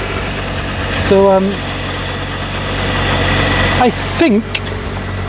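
A Toyota Celica engine idling with the bonnet open during a power steering flush, a steady mid-pitched hum running throughout, with someone talking briefly over it close by.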